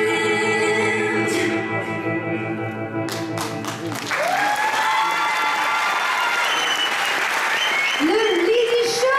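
A crowd breaks into loud, dense applause and some cheering for the Lydie Show cabaret troupe as the music stops halfway through; a voice on a microphone then speaks over the clapping.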